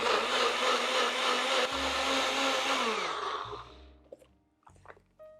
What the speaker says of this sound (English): now we're just gonna blend this until it's really uniform in size and kind of creamy looking